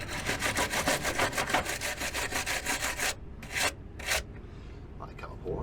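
Sandpaper rasps back and forth against a metal front brake caliper carrier in quick, even strokes for about three seconds, close and fairly loud, then a few slower separate scrapes.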